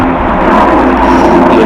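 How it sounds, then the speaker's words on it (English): A helicopter passes overhead, its steady broadband engine and rotor roar sustained and fairly loud throughout, with no voices. "Let this helicopter go by."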